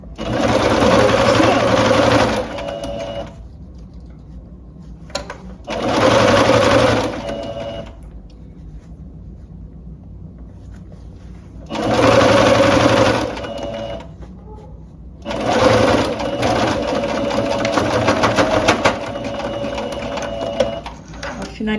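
A sewing machine stitches elastic onto a long dress in four loud bursts of rapid, whirring stitching. Each burst lasts a few seconds and is separated by quieter pauses, with someone speaking between runs.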